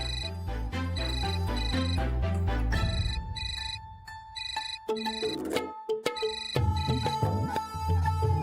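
A phone ringtone plays as a steady repeating electronic melody, loud and close, filling the whole stretch with a brief break partway through.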